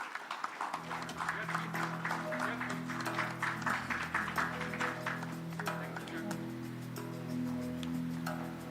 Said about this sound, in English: Can we have a huge round of applause for Mayank sir?